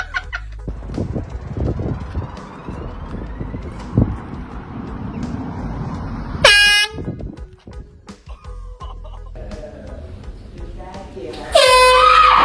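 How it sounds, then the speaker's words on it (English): An air horn blasts loudly twice in a store during a prank, each short blaring burst cutting in sharply over people talking and background shop noise. "Air horn prank on girl best friend."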